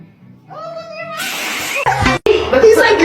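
Kitten growling and meowing, starting with a tonal cry, then a loud, harsh burst with a break near the middle and a second loud stretch; speech-like sounds may mix in.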